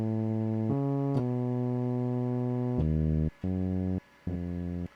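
A synthesized bass line from a self-made song, heard alone: sustained low tones that step between pitches, then shorter, separated notes toward the end.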